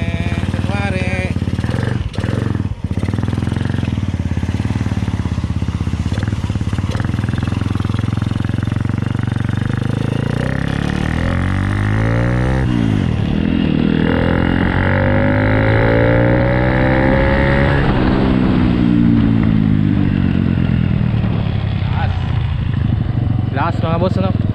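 A Honda Wave 100 motorcycle with a 53mm block, 6.8 cams and headwork runs loudly on a road test, its engine note rising and falling through gear changes while someone talks over it.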